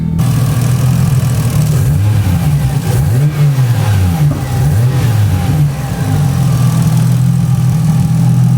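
A 1994 Toyota Supra RZ engine idles and revs up close, a loud deep throaty drone with several rising and falling blips, steady between revs and with no talk.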